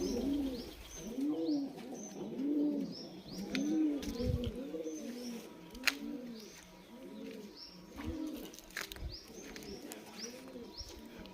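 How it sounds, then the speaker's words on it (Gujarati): Pigeons cooing near a well at a rural home, repeated soft rolling coos in a steady rhythmic series from several birds nearby, with occasional higher chirps and faint bumps, and no talking. "કબૂતર છે, તો કબૂતર બેઠા છે।"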